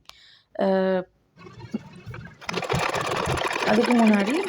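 A sewing machine stitches along the edge of a saree, its dense, steady whirring running continuously through the second half after a brief spoken opening, with a voice rising over the motor near the end.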